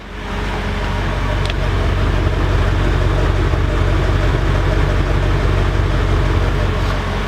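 Mercedes C55 AMG with an alternator charging fault idling roughly at the rear exhaust, a loud steady low engine rumble that continues without a break.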